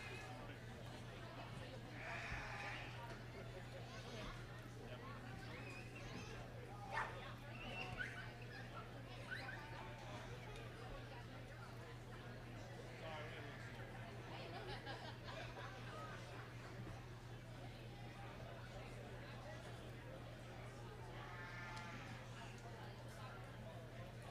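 Sheep bleat now and then in the show ring at the DeKalb County Fall Fair during sheep showmanship, a few scattered calls over a constant low electrical hum and faint crowd murmur.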